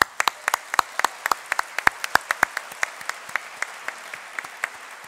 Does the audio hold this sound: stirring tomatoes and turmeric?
no